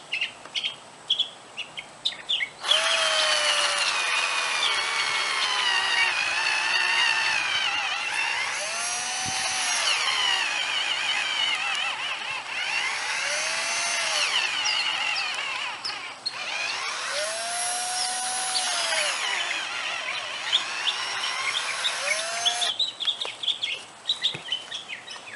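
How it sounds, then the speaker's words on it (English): Cordless drill boring holes into a tough-wood tree stump outdoors, a sustained high whine with rising and falling pitch sweeps for about twenty seconds, with faint bird chirps around it. "We're going to start drilling some holes in this stump."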